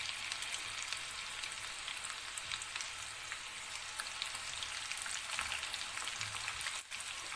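Sweet corn pakoda batter fries in oil over a low flame, a steady, even hiss and crackle that runs alone without a break.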